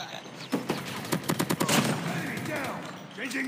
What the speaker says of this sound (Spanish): escuchen el disparo de la Peacekeeper mítica